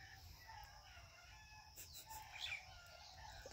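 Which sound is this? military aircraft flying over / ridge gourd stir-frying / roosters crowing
roosters crowing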